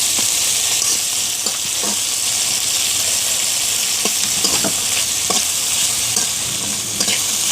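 Dried fish (shutki) frying in a pan until browned gives a steady broadband sizzle, with scattered scrapes and clinks from stirring throughout. No one speaks.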